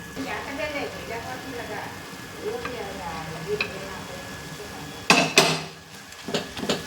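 Foxtail millet rice being stirred into a sizzling raw mango and tamarind mix in a pan, with scraping and frying sizzle under a person talking, then a couple of sharp clanks of the ladle against the pan near the end.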